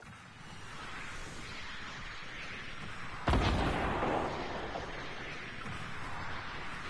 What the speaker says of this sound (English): Harv, can you keep firing rockets at him and distract him?